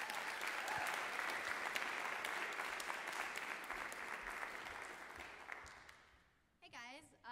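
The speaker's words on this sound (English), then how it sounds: "Ladies and gentlemen, please give her a round of applause." Audience applause at a spoken word and poetry night fills the room with dense, steady clapping that gradually thins and fades out, followed by a brief voice at the very end.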